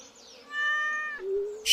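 A cat in the farming video game Stardew Valley gives one drawn-out, rising and falling meow, close and fairly clear, ending with a brief burst of noise.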